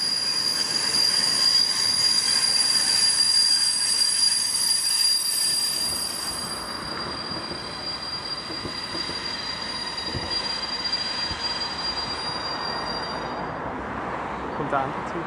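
A steam train rolls past close by on a mountain gradient, wheels squealing with a high metallic whine over a steady rumbling clatter that eases slightly midway.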